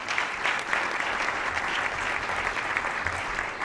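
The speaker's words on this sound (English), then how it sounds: "How about a round of applause for our speaker today?" A luncheon audience at the National Press Club applauds its speaker, a steady crowd of clapping hands that continues evenly throughout.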